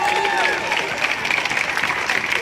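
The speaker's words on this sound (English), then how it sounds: "Can you give a round of applause to those who've been organizing this?" Crowd applause at a protest rally in Rochester, Minnesota, with steady clapping and cheering filling the whole stretch while voices carry over it.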